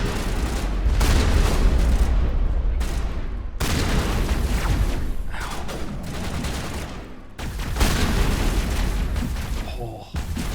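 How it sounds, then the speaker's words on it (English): Sniper fire and other gunfire from Mass Effect 1 Legendary Edition, played in a city battle, come as repeated loud blasts and bursts with short gaps across several seconds, mixed with combat noise and some voice. "Damn snipers."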